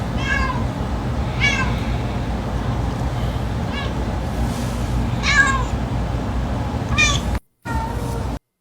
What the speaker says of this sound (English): My cat has said now she's done eating every time.